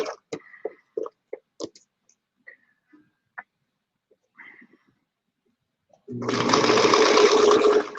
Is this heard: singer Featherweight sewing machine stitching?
yes